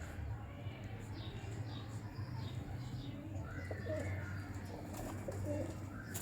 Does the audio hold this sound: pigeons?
yes